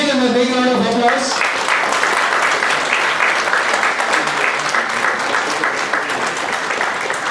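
An audience at a seminar on the Companies Act and statutory audit breaks into sustained, loud applause for a team, with dense clapping running throughout after a brief stretch of tonal sound at the start.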